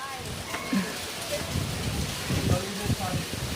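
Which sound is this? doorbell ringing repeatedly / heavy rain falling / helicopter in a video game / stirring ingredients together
heavy rain falling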